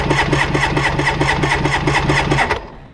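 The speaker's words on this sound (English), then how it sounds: "then just crank the engine" A personal watercraft engine cranks over during a compression test, a loud, close, rapid rhythmic chugging of even starter strokes that goes on for about two and a half seconds, then cuts off.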